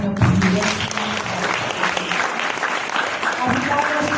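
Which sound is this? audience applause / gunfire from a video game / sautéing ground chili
audience applause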